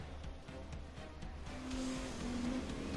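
A Ford GT race car engine in the racing game Grid Legends drones steadily from the pack at a race start, rising into a stronger sustained roar with a brief high tyre-like whine.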